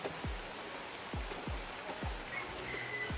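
Heavy rain patters steadily on an old, leaking rain cover, a faint even hiss with a few distinct drips standing out, and no one speaking.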